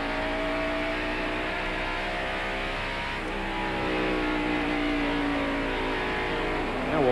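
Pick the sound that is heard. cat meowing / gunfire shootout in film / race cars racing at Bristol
race cars racing at Bristol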